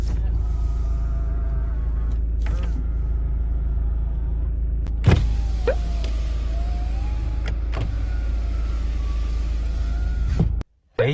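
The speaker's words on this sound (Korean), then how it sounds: "접이식 사이드 미러" The power-folding side mirrors of a used Hyundai Tucson SUV work with a brief electric motor whirr over the loud, steady low rumble of the vehicle, ending in a short click near the end.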